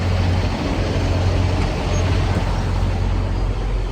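A big diesel truck engine idles nearby at a rest area in Waskom, Texas, with a constant low drone and broadband rumble, steady throughout without any talking.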